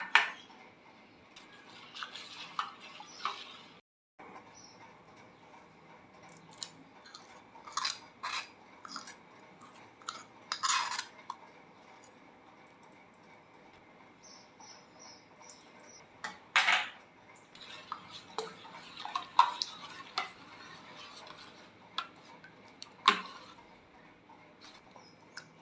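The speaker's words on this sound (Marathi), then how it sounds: "हातानं गूळ जरा मी फोडून घेते, विरघळून घेते आहे." Jaggery is broken up and dissolved by hand in a pot for raw mango panha, making soft scattered taps, clinks and rustles at close range that come in irregular bursts over a quiet background, with no one talking.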